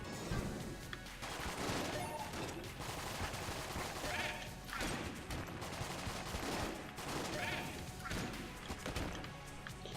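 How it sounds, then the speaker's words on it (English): Rapid automatic fire from the Mac 10 in Enter the Gungeon, a dense, continuous stream of shots with clattering impacts running the full length, loud and busy with game effects layered over it. "the Mac 10 still burning through ammo, even with increased ammo damage."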